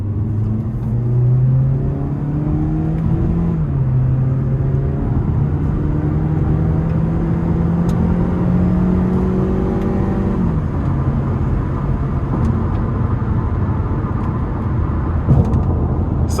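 A 2018 Mazda CX-3 Grand Touring accelerating hard in manual mode, engine pitch climbing steadily through the revs, dropping at each gear change and rising again, a loud, continuous cabin drone.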